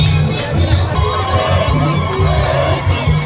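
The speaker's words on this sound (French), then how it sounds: "La population ayant fait le déplacement de l'aérodrome pour souhaiter la bienvenue à son hôte de marque s'est illustrée par une mobilisation de taille." A large crowd gathered at the Fada airfield to welcome the president fills the air with loud, continuous cheering, shouting and babble, with children's voices rising above the steady roar.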